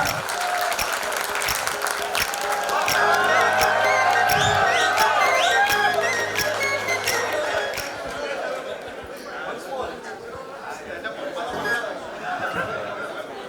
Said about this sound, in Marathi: एकदा जोरदार टाळ्या होऊन जाते सगळ्या बाळांकरता